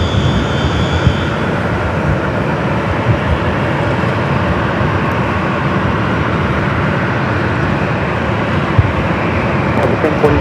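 A C-5 military transport aircraft arriving at LAX sends a loud, continuous engine roar across the airfield, with a steady broadband rumble that lasts the whole time.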